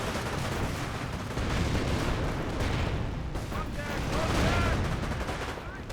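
Frag grenade blasts and rattling gunfire from a World War II strategy battle in Company of Heroes, a dense continuous clatter of shots and bursts with low rumbling booms throughout.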